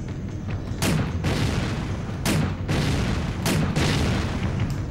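Grenade launcher fire in the PS2 survival horror game Resident Evil Dead Aim: three booming blasts spaced a little over a second apart, each a loud broadband burst over a constant low rumble of game background noise.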